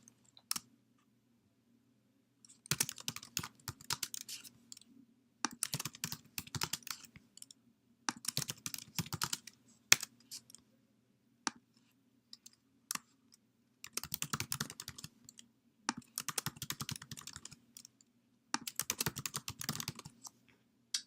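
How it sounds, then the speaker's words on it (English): Fingers type on a computer keyboard to fill in table cells, bursts of quick clicking keystrokes lasting a second or two, separated by pauses of silence, close and fairly quiet. "Then you can start typing within each cell."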